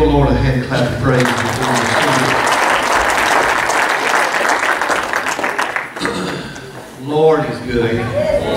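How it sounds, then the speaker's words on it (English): A church congregation claps its hands in praise during a Sunday morning service, a loud, sustained burst of many hands that swells, holds for several seconds and then dies away into a preacher's voice and singing. "Give the Lord a hand clap of praise."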